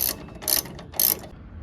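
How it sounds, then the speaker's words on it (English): Ratchet wrench loosening the top shock bolt on a Legend race car, three quick bursts of sharp metallic clicking, close and loud, with no talking. "we took the bolt out of the top of the shock here. Yeah, we're old school here. We use the ratchets."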